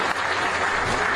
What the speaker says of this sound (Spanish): Quiero que le brindemos un fuerte aplauso, por favor.